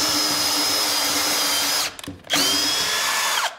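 A power drill whines steadily as it chews through a metal window frame, then briefly stops and starts again with a high-pitched grinding tone, loud and close.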